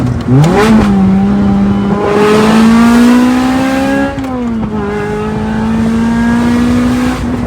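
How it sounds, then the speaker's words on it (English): A Lotus Elise on the road with Nitron coilovers, its engine blipping sharply on a downshift and then holding a loud, steady drone as it pulls, heard from inside the car with no talking. "Alright, let's give it a little downshift."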